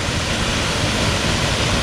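A waterfall on a rough trail near San Vicente de Chucurí, Colombia, heard as a continuous dense rushing roar, close and steady throughout.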